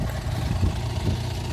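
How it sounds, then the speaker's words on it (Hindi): John Deere 6815R tractor engine idles on a farm field, a steady low, close rumble running without a break and without voices. "जोंडियर का ट्रैक्टर है वड्डा"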